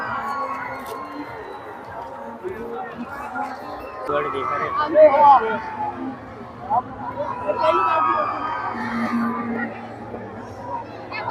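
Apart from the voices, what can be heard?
dense crowd chatter at Rajkot fair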